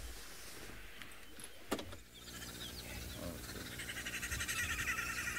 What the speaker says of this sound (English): sounds like Pat is doing a spot of birding of his own, and he's got probably some of the loudest that we get at Djuma.